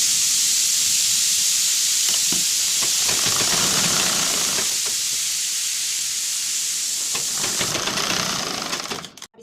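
A sewing machine stitches a blouse piece and its lining, a steady high whirring hum with faint rhythmic mechanical ticking, running continuously before stopping with a few clicks at the end.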